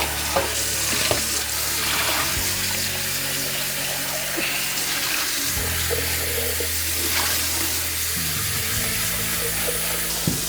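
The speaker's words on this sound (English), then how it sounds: "And with the water running" Tap water runs steadily into a sink as paintbrushes are rinsed, a continuous close hiss and splash with small shifts in flow and faint clinks, no talking.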